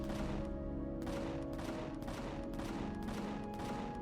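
Gunfire in the space game Empyrion, a rhythmic series of repeated shots at roughly even intervals over a constant mechanical hum, moderately loud and continuous.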